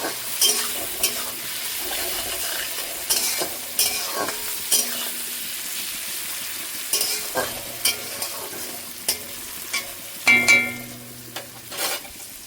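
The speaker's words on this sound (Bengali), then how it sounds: "এটা দিয়ে কিছুক্ষণ কষিয়ে নেব।" Spices with turmeric and a little chili powder being stir-fried in a pan for an eggplant dish, a steady low sizzle broken by repeated scraping and clacking stirs with a utensil, close by and without talk.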